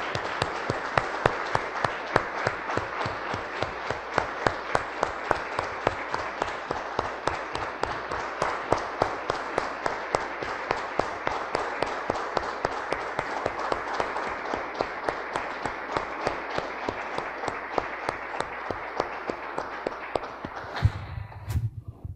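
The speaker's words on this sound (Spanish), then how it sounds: "Damos un aplauso, hermanos, al Señor." Steady, sustained applause from a church congregation, rhythmic clapping continuing loudly for about twenty seconds before fading out abruptly.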